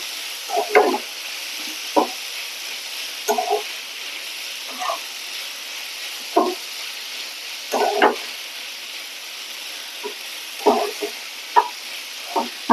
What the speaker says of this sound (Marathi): आता मी हा छान याच्यामध्ये परतवून घेणार आहे.